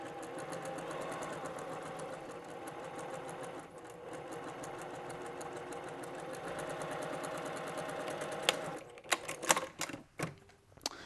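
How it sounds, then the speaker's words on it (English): A sewing machine stitching a seam on a foldover bag runs in a fast, even mechanical chatter for several seconds, then slows and stops with a few clunks and clicks as the stitch is locked. "Let's sew over a few inches and stop, and we're gonna lock that in."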